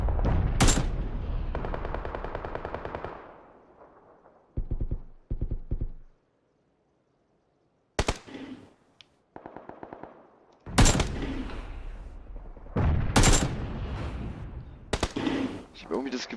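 Gunfire in PUBG on Xbox One X comes in loud bursts of rapid automatic shots, with single cracks and gaps of silence between volleys, while a player talks.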